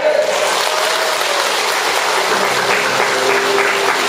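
Participants at a Korean Buddhist promotion ceremony clap in celebration after candles are blown out, a loud, continuous, dense wash of applause holding evenly for the whole stretch, with no speech over it.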